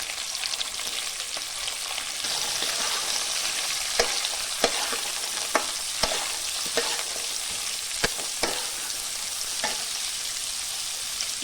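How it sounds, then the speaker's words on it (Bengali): Whole spices (cardamom, cinnamon, cloves), cashews, carrots and beans frying in hot oil for vegetable fried rice, a constant sizzle with scattered sharp pops and stirring scrapes, fairly soft and steady throughout. "তেলটা গরম হয়ে গেছে, এবার মধ্যে গোটা গরম মশলা দিয়ে দিলাম, এলাচ, দারচিনি আর লবঙ্গ"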